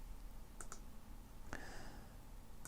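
A computer mouse clicking at a desk, a few faint, crisp clicks spaced irregularly, including a quick double click, against quiet background hiss.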